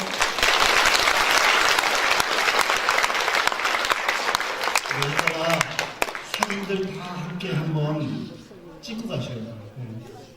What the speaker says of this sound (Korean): 크게 박수 한번 보내주실까요?